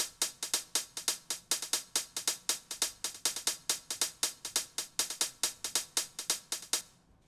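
Crisp 909 core kit hi-hats tick in a fast, steady stream with a slight swing, bright and fairly quiet, alone until a short fade at the end.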